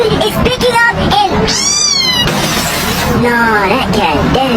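A cat meowing during a hurricane, its harmonic calls rising and falling across a few seconds, fairly loud and mixed with a voice talking over constant roaring wind noise.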